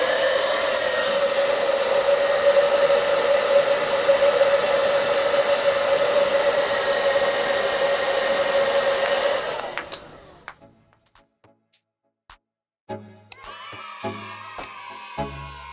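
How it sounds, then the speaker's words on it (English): A strong jet of air blows hard enough to hold ping pong balls floating, giving a loud, steady whooshing hum like a hair dryer that cuts off near the end, followed by light clatters and shuffling. "I created high speed of airflow around the ping pong ball"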